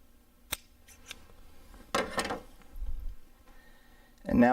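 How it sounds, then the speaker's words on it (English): Small plastic tubing gets snipped with a few short, sharp cuts spread over a quiet moment, followed by some handling noise and a brief louder rustle at the end. "Cut another little small section of tubing."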